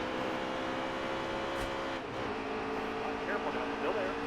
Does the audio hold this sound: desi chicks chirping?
no